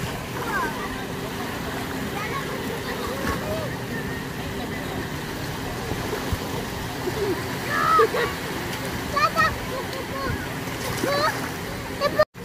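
A child splashes in water outdoors, with steady splashing and running water throughout and voices talking over it, ending with a sudden loud splash.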